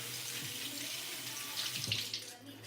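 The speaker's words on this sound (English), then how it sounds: "Wash my hands." Tap water runs steadily into a sink while hands are washed beneath it, a close, continuous splashing hiss that swells briefly before tapering off, with no talking.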